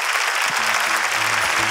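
Studio audience at a Peruvian comedy talk show clapping loudly and continuously, dense even applause with a few faint voices underneath.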